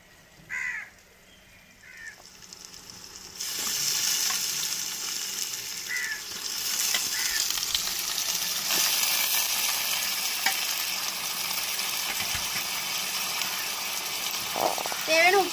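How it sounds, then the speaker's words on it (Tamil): Onion, tomato and garlic sauté in oil for a squid gravy, a steady sizzle setting in a few seconds in and running on, with crows cawing now and then nearby. "தக்காளி வெங்காயம் வெள்ளப்புல்லாம் இன்னும் கொஞ்சம் நேரம் எண்ணெயில் வதங்கட்டும்"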